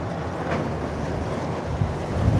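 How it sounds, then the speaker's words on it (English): Strong, steady wind buffeting a microphone outdoors at a live building demolition in Blackpool, a continuous loud rumbling roar with gusts swelling near the end and no speech. "This wind is brutal."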